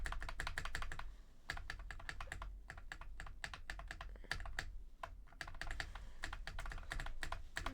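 Steady, fast typing on a mechanical keyboard with red switches, a dense run of close, sharp clacks with a few brief gaps.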